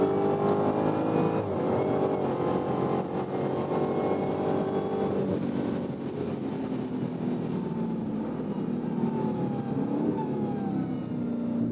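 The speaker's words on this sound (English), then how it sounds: "That supercharger whine." A supercharged Dodge Challenger Black Ghost muscle car on a race track gives off a loud, high supercharger whine over its engine note, the pitch sweeping up and down with acceleration and shifts, with no talking.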